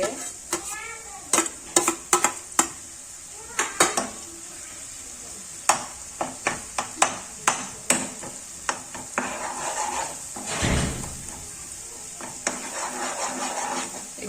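Onion and garlic paste fries in a pan for a Gujarati corn and patra curry: steady sizzling runs throughout, with repeated close clinks and scrapes of a spoon stirring against the pan, and no one talking.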